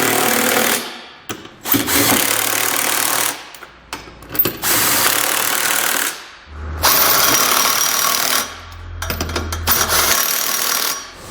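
An impact-style power tool snugs trailer hitch hardware under a 2017 Toyota Sienna: loud, close rattling bursts of a few seconds each, separated by short pauses, with no talk.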